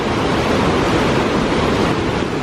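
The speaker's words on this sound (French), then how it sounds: "la vraie cascade" A waterfall roars as a loud, steady wash of broadband noise, constant throughout with no voices.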